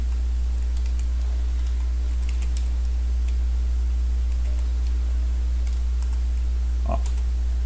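Someone types on a computer keyboard. Faint, scattered keystroke clicks sit under a loud, constant low electrical hum, with no talking.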